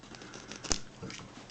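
Scissors snipping through fur for Northern Woodland style moccasins, a few soft close cuts and rustles with a sharper snip at the end.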